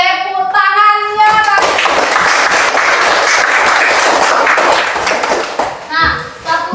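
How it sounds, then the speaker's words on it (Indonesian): Classroom children clapping their hands together in a dense, steady burst lasting several seconds, between stretches of a teacher's voice at the start and end. "Iya, tepuk tangannya."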